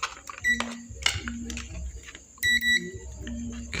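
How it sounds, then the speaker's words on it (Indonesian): A Sangean MMR77 emergency radio's buzzer gives short electronic beeps, a few spaced tones heard close and moderately loud over quiet room noise. "Saya akan cek buzzer dulu apakah yang plus nyambung atau tidak."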